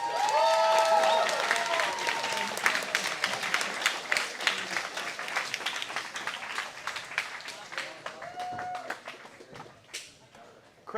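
A crowd claps and cheers at a pankration fight night, dense applause loud at first then slowly thinning, with whoops and shouts rising over the clapping.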